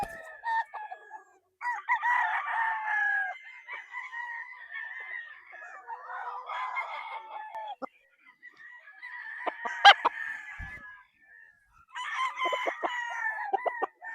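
A sweater roundhead cross gamefowl rooster crows in several drawn-out, raspy calls separated by short pauses, close and clear, with faint clucks between.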